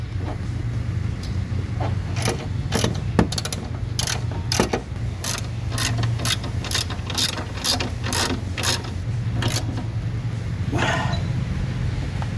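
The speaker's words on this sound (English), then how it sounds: "So these bolts here in the aftermarket carrier, we can tighten those down now all the way." Ratchet wrench tightening bolts on an aftermarket tailgate carrier of a Jeep Wrangler TJ, a steady series of sharp close clicks in quick bursts over a low background hum, with no talking.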